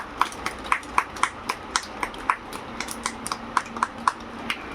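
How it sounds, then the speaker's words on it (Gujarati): Four-finger clapping in a rain-clap game, lighter regular taps at a steady moderate pace, close and fairly soft, over a faint background hum. "પછી 4 આંગળીથી તાળી પાડો."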